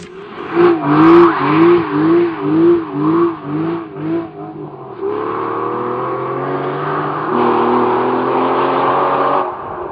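V12 Zagato sports car accelerating hard, a loud close engine pulsing through rhythmic revs, then a steadier rising drone after a gear change, no voices.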